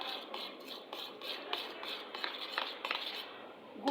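A spoon stirs and mixes cake batter in a bowl, making soft repeated scrapes with light clinks against the sides in an uneven rhythm, heard quietly and close with no speech.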